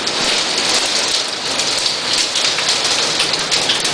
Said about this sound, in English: Typical Florida thunderstorm.